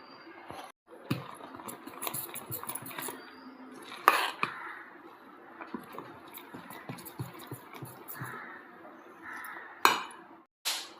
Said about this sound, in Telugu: ఇప్పుడు ఈ పిండిలోకి తగినంత సాల్ట్ వేసుకొని బాగా కలుపుకోవాలండి